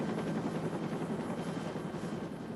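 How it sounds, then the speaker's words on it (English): A rescue helicopter arriving at an accident scene, its rotor producing a steady, dense throbbing roar at moderate distance with no voices over it. "The helicopter came in."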